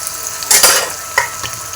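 Finely chopped onion drops into hot oil in a pan with a loud burst of sizzling, then a short stir and a second spit before the frying settles into a steady crackle.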